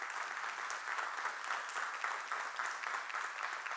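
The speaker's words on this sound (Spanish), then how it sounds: "Un aplauso, por favor." Church congregation applauding during a Spanish-language celebration service, a steady wash of many hands clapping at moderate distance, fairly soft and continuous with no clear talk over it.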